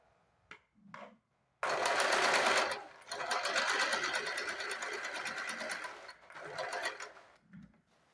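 Sewing machine stitching around the lining of a blouse, running in a steady, close whir in one long burst with brief pauses, and short softer runs before and after.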